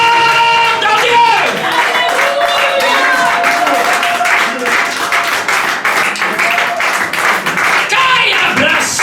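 A church congregation applauds during a worship service, steady loud clapping mixed with voices and sung tones ringing through the hall, the crowd noise continuous throughout.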